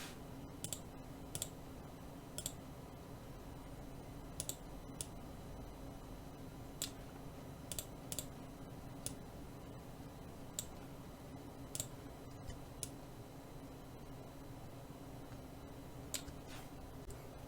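Sparse, faint mouse clicks sound at irregular intervals while terrain is edited in Unity, quiet isolated ticks over a low steady room hum.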